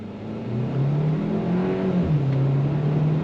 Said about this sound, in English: We're gonna go on throttle so you can see it in motion.